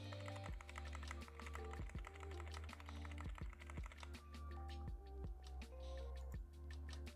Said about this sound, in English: go ahead and spam the delete key on your keyboard or the F2 key